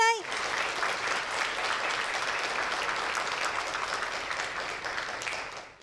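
Warm, sustained applause from a symposium audience for the panelists closing an ethical-consumption panel discussion, starting right after a brief voice and tapering off at the end.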